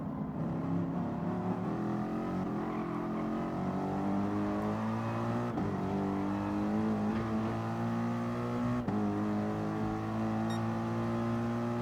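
Gr.3 race car engines in Gran Turismo Sport at the Nurburgring GP whine continuously at high revs, pitch climbing through the gears with brief drops at shifts, several cars droning together.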